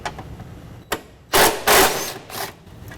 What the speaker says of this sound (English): We're going to go ahead and remove that 12mm bolt.